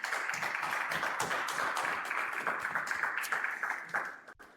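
Studio audience applauding a participant as they step forward on a French street-prank show, a dense steady patter of many hands clapping throughout, ending abruptly.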